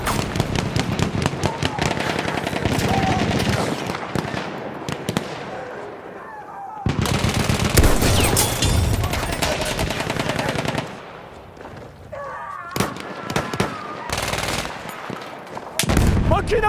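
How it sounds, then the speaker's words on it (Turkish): Machine gun fire in Battlefield 1, long loud rapid bursts broken by short pauses, with shouted voices and battle noise around it. "Makinalı tüfek!"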